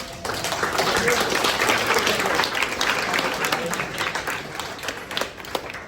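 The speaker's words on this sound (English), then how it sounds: "I want you guys to give yourself a round of applause for being the best players" High school students applaud themselves in a dense, loud burst of clapping that fills the room for several seconds, with a few voices mixed in.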